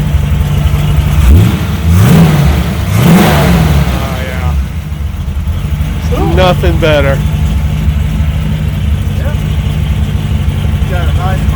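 A 1947 Ford Deluxe with a 289 engine and a race cam revs sharply three times, then settles into a lumpy, rumbling idle while people talk nearby.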